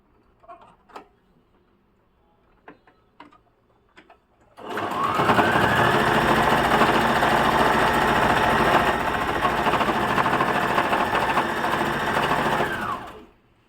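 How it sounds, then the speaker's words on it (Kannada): A sewing machine stitches an old vest into a hand towel. A few soft clicks come first, then a loud, steady motor whir runs continuously for about nine seconds before stopping. "ಇವಾಗ ಫೈನಲ್ ಆಗಿ ಇಲ್ಲಿ ಒಂದು ಸ್ಟಿಚ್ಚನ್ನು ಹಾಕೋತಾ ಇದ್ದೀನಿ"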